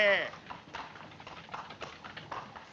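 Hooves of a horse pulling a cab clip-clop along a street in a 1947 film noir, a steady uneven trotting rhythm beneath a voice calling out at the start.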